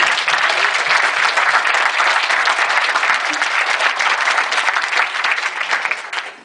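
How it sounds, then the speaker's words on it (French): Sustained audience applause at a debate after a film screening about September 11, a thick, even roar of many hands clapping throughout, close and loud with no voices on top. "et peut-être motiver un applaudissement."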